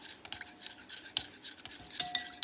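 Half a stick of butter mixed with other ingredients in a bowl, producing soft, irregular scraping and clinking of a utensil against the dish, close and fairly quiet, with no talking.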